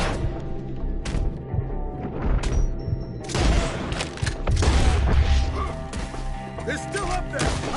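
Gunfire and heavy booms in Red Dead Redemption 2 as enemies perched up in the trees are shot at, with dense repeated blasts and thuds throughout, a loud rumbling surge midway, and game ambience underneath.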